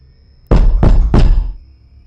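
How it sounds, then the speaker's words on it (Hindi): Three heavy, evenly spaced knocks land on a door at night, loud and close, each a booming thud with a short ring after it, followed by quiet. "तभी दरवाजे पर अचानक 3 बार दस्तक हुई।"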